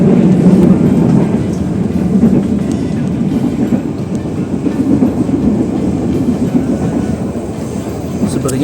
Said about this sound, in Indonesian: kita berpapasan dengan kereta api Ketel.